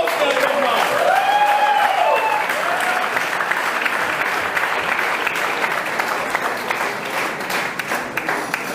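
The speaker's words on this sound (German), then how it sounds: "das soll fett nach Applaus sein" Applause from a crowd at a professional boxing fight night fills the clip, steady and loud throughout, with a voice over the PA heard faintly at the start.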